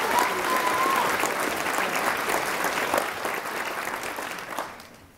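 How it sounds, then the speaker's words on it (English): A large audience applauds committee members and volunteers at a Distinguished Young Women program, steady full clapping that gradually fades out over several seconds. "Let's give them a big round of applause for all their hard work"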